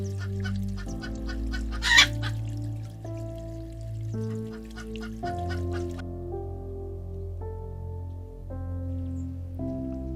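Backyard hens cluck in a series of short calls over the first several seconds, heard beneath steady tonal background music that changes notes throughout.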